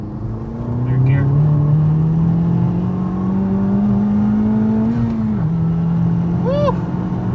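A Honda Civic Type R fitted with a Mishimoto cold air intake pulls hard through third gear, its loud engine drone climbing steadily in pitch close by, then dipping briefly before continuing, with faint voices underneath.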